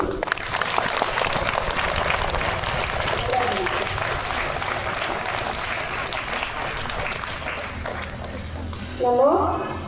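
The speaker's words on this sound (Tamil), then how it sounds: "சூப்பராக பண்ணாங்கல்ல, அதில் ஒரு கைத்தட்டல் கொடு." Students at a school assembly applaud together, a dense, steady burst of clapping that carries for most of the stretch before thinning out, followed by brief voices and a short squeaky sound near the end.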